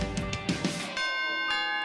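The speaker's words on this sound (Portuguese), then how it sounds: "Tem alguém tocando a campainha." A doorbell rings with a clear ding-dong chime that rings on after the strike, following a short stretch of light rustling.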